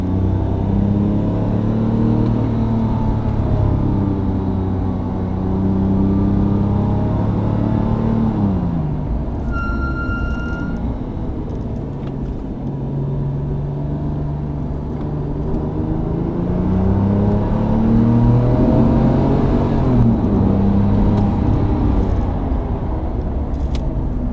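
Car engine on a track during a driving course, loud and close throughout, rising and falling in pitch as it accelerates, eases off and revs up again, with a brief whine of gear or tyre noise midway.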